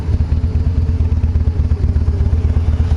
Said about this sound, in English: I like downshifting, and that other engine didn't back pop like that.